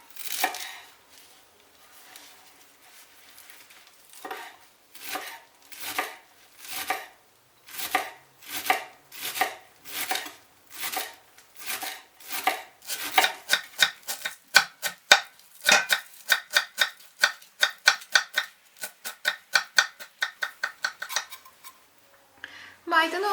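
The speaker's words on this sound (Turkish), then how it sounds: "ve dereotumu incecik doğradım" Rapid, steady knife chopping of parsley and dill on a board, dozens of crisp taps in quick rhythmic bursts, close up with no talking.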